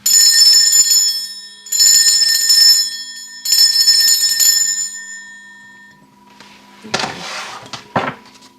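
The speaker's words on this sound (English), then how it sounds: "I'm going to be ringing this lovely bell here." Three long shimmering bell rings, each sustaining for about a second and then decaying, loud and close, followed by a few softer rattling knocks near the end.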